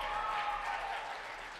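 Audience applause for pastor Paco at a live podcast event, a steady wash of many hands clapping together, moderately loud and continuous, tapering slightly toward the end.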